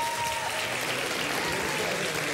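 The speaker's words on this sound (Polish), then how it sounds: "Brawa się należą za to." Studio audience applause on a Polish TV quiz show, a steady, fairly soft bed of clapping running evenly throughout.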